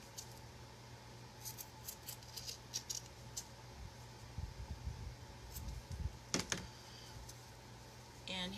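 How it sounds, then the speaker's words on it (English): Scissors trim a square of material for metal tray decor, soft close snips scattered quietly over a low room hum. "I'm going to trim up the square so that it doesn't show through."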